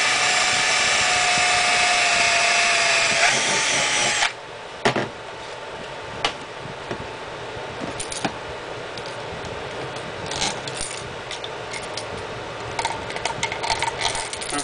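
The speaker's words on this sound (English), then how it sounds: "now you've got a 17/64 inch hole drilled on the other side" A power drill boring a 17/64 inch hole in PVC: a steady loud whirring drill run for several seconds stops abruptly, followed by quieter clicks, knocks and handling sounds of the plastic workpiece.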